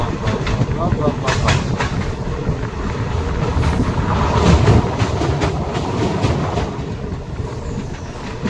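Snow train running from Srinagar to Banihal in Kashmir, a steady rumbling rail roar with faint clickety-clack throughout, loud and close from on board, with people talking over it.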